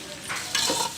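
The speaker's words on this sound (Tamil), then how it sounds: "இப்போ நான் வந்து அடுப்பில் எண்ணெய் எல்லாம் ஊற்றி பட்டை லவங்கம் வெங்காயம் எல்லாம் போட்டு வதக்கின்னு இருக்கேன்." Cinnamon, cloves and onion sautéing in oil for Andhra-style dum chicken biryani, a brief close burst of sizzling with a quick stirring scrape.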